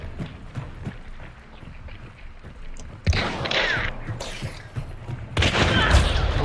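Gunfire in the video game Hunt: Showdown, with loud bursts of shots and booming blasts over a busy, rumbling background of thudding, hoof-like footsteps and movement.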